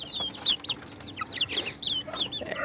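A group of about sixty young chicks in a brooder, a broiler chick among them and most of them deshi, make quick high-pitched cheeps in short overlapping bursts, close by.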